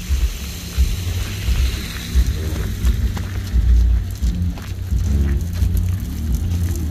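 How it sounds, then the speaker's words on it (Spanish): Steady freezing rain patters and hisses with low rumbling underneath, continuous and moderately loud, no voices. "lloviendo, agua frisada"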